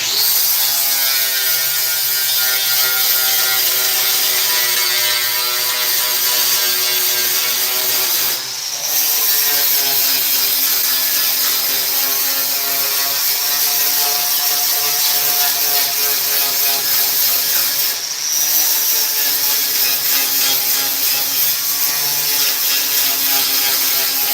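A grinder working along a welded seam on sheet metal, a loud continuous whining grind with rubbing, rasping texture that holds steady throughout, briefly easing off twice as the tool lifts.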